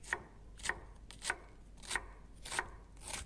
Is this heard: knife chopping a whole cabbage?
yes